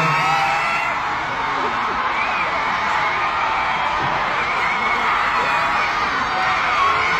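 A large audience at the Hanteo Music Awards 2023 cheers and applauds steadily throughout an ending stage, with a dense, continuous roar of crowd noise and scattered shouts and whoops.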